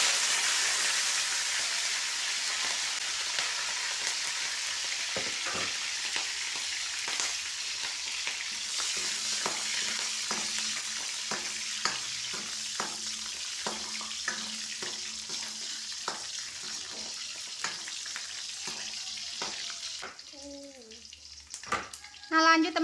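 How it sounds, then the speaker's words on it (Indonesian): Ingredients frying in hot oil, a bright continuous sizzle for about twenty seconds with scattered pops and stirring clicks, then a short burst of running water near the end, no voices. "Oke teman-teman, ini minyaknya udah panas"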